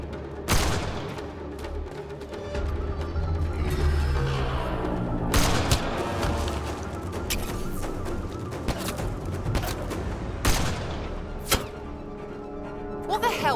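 Gunfire in a Mass Effect Andromeda firefight comes as scattered sharp shots and bursts over a dense, noisy battle background, with voices shouting between the cracks.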